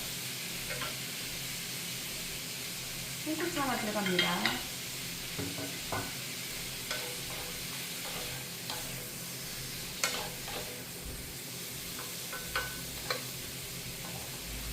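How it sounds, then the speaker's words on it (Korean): Cucumber slices stir-frying in a hot pan for a Korean cucumber side dish, a steady broadband sizzle with scraping and clacking stir strokes spread throughout, and a brief spoken remark near the start. "이 볶기만 하면 돼요"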